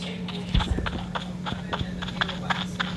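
Hooves of a baby horse clip-clop in an uneven walking rhythm in the Yellowstone Unleashed video game, close and fairly crisp against a low steady background hum.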